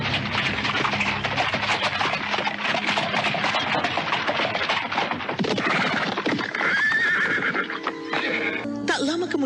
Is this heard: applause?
no